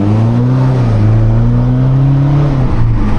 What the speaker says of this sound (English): Look at that 535D power.